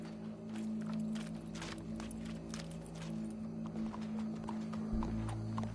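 Horse hooves in Red Dead Redemption 2 clop steadily at a walking pace over a continuous low hum, with no voices.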